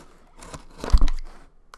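A utility knife slices into a cardboard package holding a Twinkie maker, a short close scraping and tearing scratch that swells to a loud bump near the middle and fades, with a few lighter clicks around it.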